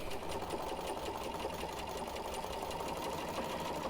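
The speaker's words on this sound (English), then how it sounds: "All right, let's sew this strip on." A sewing machine stitching a strip onto a sampler quilt block, a close, even, rapid mechanical whir running steadily throughout with no talking.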